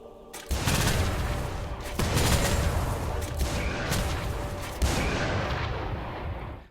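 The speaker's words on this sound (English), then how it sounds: "the final shot does lots and lots of damage and is guaranteed to crit" Jhin's finale ultimate in League of Legends fires a series of heavy, booming gunshots, a few sharp loud blasts spaced about a second or more apart over reverberant game sound, with no speech.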